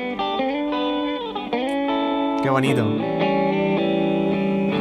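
An electric guitar with P90 pickups plays a clean tone with a slight touch of drive, sustained chords and ringing notes with a bend near the middle, loud and close, with a brief spoken exclamation over it.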